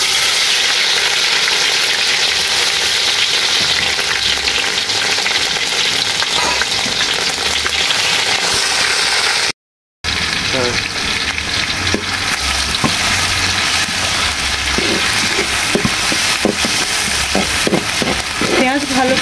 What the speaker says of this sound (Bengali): পেঁয়াজ ভালো করে ভেজে নেব।